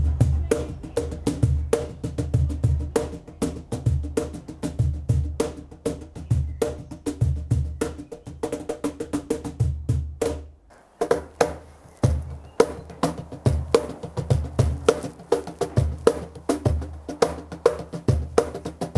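A cajon, the larger version with a five-ply striking plate on its front, played with dense rhythmic slaps and taps, deep bass thumps mixed with sharper strokes, loud and close, with a short pause midway before the playing resumes.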